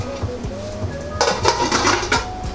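Metal lid clattering onto a cooking pot of simmering vegetables for a Jamaican vegan dish, a few close, loud clanks and scrapes in quick succession over a low kitchen hum.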